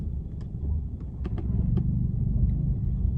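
A manual stick-shift car creeps along slowly, its engine a low steady rumble that swells slightly as it pulls in second gear, with a few faint clicks over the drone and no talking.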